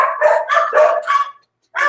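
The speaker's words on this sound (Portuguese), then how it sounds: "meus cachorros" Several dogs bark in a quick run of five sharp, loud barks close to the mic, then a short silence and one more bark, with no talk over them.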